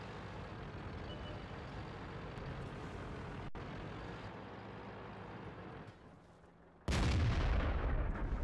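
A heavy tank's gun fires in World of Tanks amid a steady engine rumble, the ambience dipping briefly before a loud, sudden blast rings out near the end.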